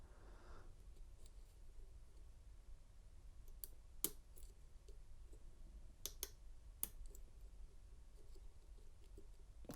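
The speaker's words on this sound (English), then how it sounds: "now 1's binding, so now you should just see clicking through each serration" Faint, sparse clicks from an American Lock Series 50 padlock being picked with an AM5 Lishi tool, a few sharp ticks scattered over a quiet background with no talking.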